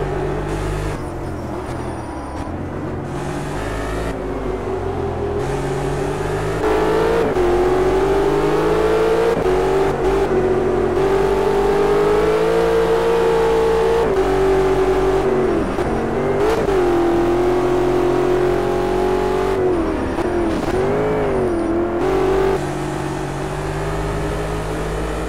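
Race car engines rev and climb in steady, sustained tones in the Project Cars video game, loud and continuous with rising and falling pitch as the car accelerates and shifts, no voices.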